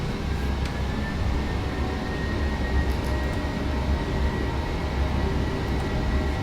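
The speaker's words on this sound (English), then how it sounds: "Set takeoff thrust." Boeing 737-900ER jet engines spooled to takeoff thrust in a PMDG flight simulator, a steady, loud, dense roar with a constant hum that holds unchanged throughout, no voices over it.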